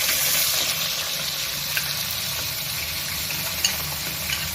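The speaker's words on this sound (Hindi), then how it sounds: "अब मैं इनमें टमाटर ऐड कर दूँगी" Tomatoes go into a pan of dark-browned chillies frying over high flame for dhaba-style chicken, giving a steady, close sizzle and crackle with faint stirring clicks throughout.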